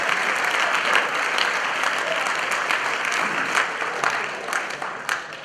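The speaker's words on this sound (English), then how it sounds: "If you give them a nice round of applause" A sports banquet audience gives a warm round of applause, many hands clapping steadily and loudly, then thinning out toward the end.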